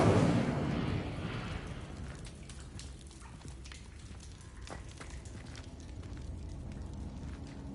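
Casting the Incendio fire spell in the video game Hogwarts Legacy releases a roaring whoosh of flame that is loudest in the first second, then settles into a lower, crackling burn with scattered snaps.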